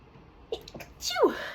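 A single close sneeze, a short sharp intake followed by a loud burst with a falling tail, heard alone in a quiet room.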